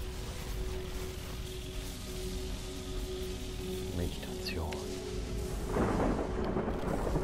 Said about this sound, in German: Der Sturm beginnt zu gehorchen